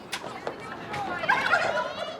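Farm turkeys gobbling in repeated warbling bursts, fairly close and loud, several birds calling over one another with no talk.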